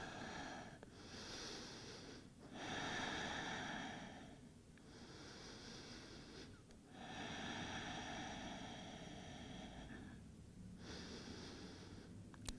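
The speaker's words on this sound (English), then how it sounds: "Good deep breaths." Slow, deep breaths during a hip-focused yoga practice, long airy inhales and exhales in a steady rhythm, close and soft, with brief pauses between breaths.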